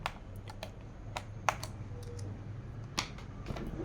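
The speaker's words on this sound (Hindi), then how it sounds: "तो ये स्क्रू आप ओपन करेंगे यहाँ से।" A screw is backed out of the keyboard of a Lenovo ThinkPad T420 laptop, heard as small close clicks and ticks scattered over a quiet background with no talking.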